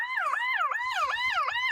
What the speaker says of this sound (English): I gotta turn that siren off